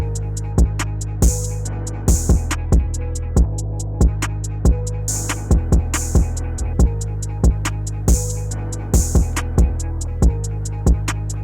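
A looped electronic drum beat from an Akai MPC Live 2 sampler, with sharp, evenly spaced hits and bright bursts of processed noise sweeping in and out through XY effects, loud and steady without any voices.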